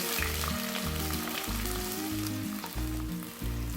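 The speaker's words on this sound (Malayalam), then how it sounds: "ഇതൊന്ന് നന്നായിട്ടൊന്ന് ഇളക്കി കൊടുക്കാം" Fennel seeds, crushed ginger, garlic and chopped shallots frying in a pan, a soft steady sizzle under a low hum with faint intermittent stirring, quiet and continuous with no talking.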